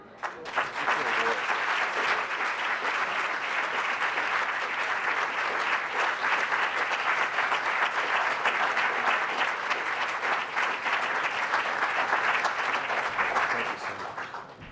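A large audience gives sustained applause for the 2018 McSilver Awards honorees, dense clapping that starts abruptly, holds loud and steady for about fourteen seconds, then tapers off.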